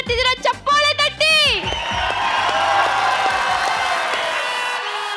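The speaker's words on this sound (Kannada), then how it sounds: "ಚಪ್ಪಾಳೆ ತಟ್ಟಿ" Studio audience on a Kannada comedy stage show applauding and cheering, a loud sustained wash of clapping and whoops that follows a burst of shouting voices and music at the start.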